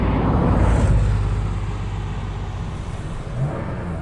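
Interior drone of a 1984 Porsche 911 Carrera with its air-cooled flat-six engine, a steady low rumble with road noise, loudest at the start and easing slightly, no voices.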